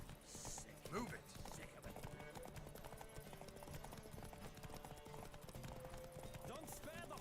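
Galloping horse hooves in The Witcher 3: Wild Hunt, a steady rapid clip-clop running throughout at close range, mixed with game music and occasional voices.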